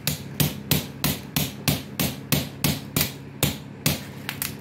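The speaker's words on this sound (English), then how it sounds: "I'm going to take a cleaning rod, and then I'm going to start tapping this sucker until I dislodge it" A cleaning rod is tapped repeatedly to knock a stuck bullet out of a gun barrel after a squib load. About a dozen sharp, evenly spaced metallic knocks ring out close and loud, then a quicker double tap at the end.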